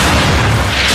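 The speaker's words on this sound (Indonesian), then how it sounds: "Dan seketika itu juga bom meledak" A grenade explosion in a zombie film: a loud, dense, sustained blast rumble filling the whole second, with heavy low-end boom and broadband roar and no clear onset or decay.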